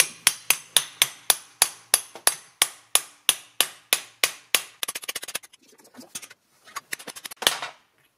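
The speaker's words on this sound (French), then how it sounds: "je vais mettre une douille qui va bien, puis je vais tapoter, ça devrait venir" Sharp metallic hammer blows on a socket driving out a front wheel bearing on a 2004 Toyota Avensis, a steady series of about fifteen evenly spaced loud taps, then scattered lighter knocks and clinks.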